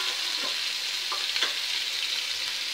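Paneer cubes frying in a pan for paneer masala gravy, a steady close hiss of sizzling oil with a few soft scraping stirs, no voices.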